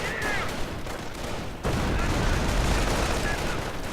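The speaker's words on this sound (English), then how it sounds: "Snipers opening up on the Panzer Grenadiers." Battlefield gunfire from snipers in a WWII strategy video game, a dense continuous crackle of shots and impacts, loud and busy throughout, with a sharper surge midway and a voice faintly under it.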